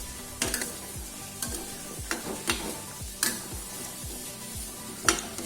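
Plantain simmering in milk with sago in a pan for a Malabar dish, stirred with a utensil: soft repeated scraping strokes against the pan bottom with a few sharper clinks, over a low steady bubbling sizzle, no voices.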